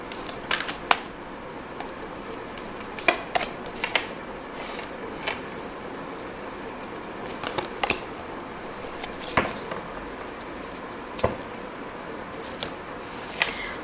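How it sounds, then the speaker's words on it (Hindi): Tarot cards are picked up and shuffled at close range. Scattered crisp clicks, flicks and soft slaps of card stock come in uneven clusters over a quiet background, with no speech. "Let's pick up 3 cards."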